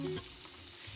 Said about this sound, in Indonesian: untuk goreng si ikannya aku sekalian goreng aja